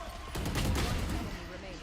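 Sniper fire from Valorant on the Haven map at a professional match, a quick rattle of shots over a couple of seconds, mixed with crowd or game noise and probably caster talk.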